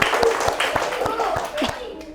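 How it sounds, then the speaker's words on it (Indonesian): In a classroom, a group claps in a steady, evenly spaced rhythm for a student named Randy, the beats fairly close and moderate in level while voices talk over them. "Tepuk tangan dulu buat Randy"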